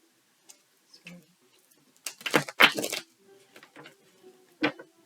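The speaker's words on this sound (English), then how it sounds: "I'm going to shuffle these cards a few times" Tarot cards are shuffled close by: scattered soft taps, then a dense riffling burst of flicking cards, followed by quieter shuffles and a final crisp snap.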